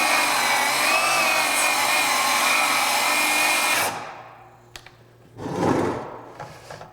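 A brushless 7-1/4 inch cordless circular saw, a Craftsman V20 or Ryobi 18V One+ HP, cuts wood with a loud, high, sustained whine for about four seconds, then winds down abruptly. Faint rattles and brief rustling noises follow.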